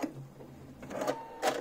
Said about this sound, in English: I'm starting and stopping with a lock stitch.